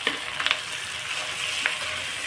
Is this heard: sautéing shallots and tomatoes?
yes